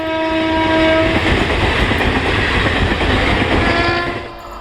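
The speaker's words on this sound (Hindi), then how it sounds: "अभी हमारी ट्रेन लूप में लग चुकी है गोथाज पे, जहाँ पर अहमदाबाद मुजफ्फरपुर एक्सप्रेस हमें ओवरटेक करेगी" An Indian Railways express train runs loudly and close by while standing on a loop line, with a steady rumble, rhythmic clatter and sustained horn tones at the start, fading slightly toward the end.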